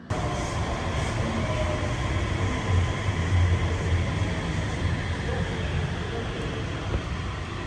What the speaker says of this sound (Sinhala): මන් දැන් ෆස්ට් ටයිම් try කරන්න හදන්නේ ඩ්‍රයිවර් කෙනෙක් නැති ට්‍රේන් එකක්